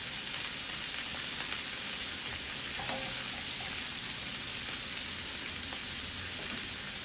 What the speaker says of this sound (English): Turn the heat low. And some onions.